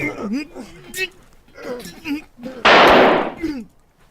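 A single sharp gunshot effect cracks out loud and close in a tense radio drama scene, landing between bursts of agitated dialogue from several voices.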